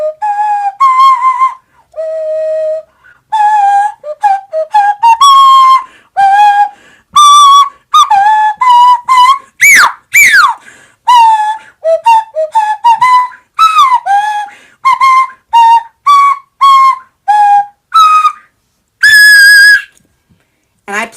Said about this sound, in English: It's called the nose flute, and it sounds like this.